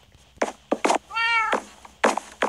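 A cat meows in a video game, with a few short, sharp, clear meows set against several dull chopping thunks, all near and loud.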